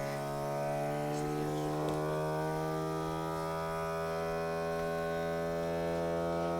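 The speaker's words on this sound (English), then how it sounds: "Hold that down till the vacuum starts" A vacuum sealer's pump drones on evenly throughout, a constant pump-like whine with no change in pitch.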